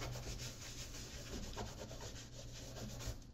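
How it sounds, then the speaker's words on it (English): A pebble grain calfskin shoe gets buffed with a chamois cloth in quick, steady rubbing strokes, a close, soft, continuous swishing with a low background hum. "you can buff off any excess with a nice chamois cloth"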